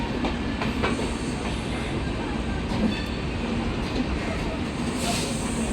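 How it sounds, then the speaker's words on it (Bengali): A Jabalpur to Howrah train passes nearby, a loud, steady rumble with rhythmic rail clatter that carries unbroken from start to finish. "তো আরও একটা ট্রেন দেখা যাক, এটা হচ্ছে আমাদের জবলপুর থেকে হাওড়া।"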